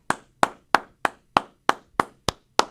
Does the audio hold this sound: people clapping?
yes